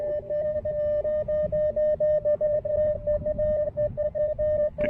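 A steady CW tone from an Icom IC-705 ham radio keys Morse code for a zero, a continuous pulsing beep held over a noisy band hiss during portable park operation by the water.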